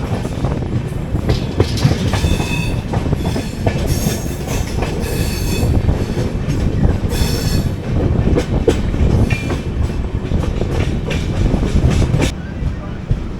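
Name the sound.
AC Express train running into Panvel station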